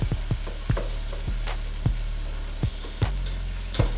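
Tofu scramble fries in a pan with a steady sizzle while a utensil scrapes and stirs it in regular knocks, close and fairly loud with no talking.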